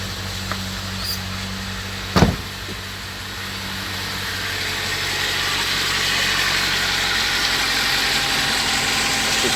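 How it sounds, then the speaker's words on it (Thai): An old car engine starts with a short sharp burst, then settles into a steady rumbling idle that continues evenly and fairly loud, with no talking. "ลองดูจะติดหรือเปล่า โอเคครับติดแล้ว ติดแล้ว"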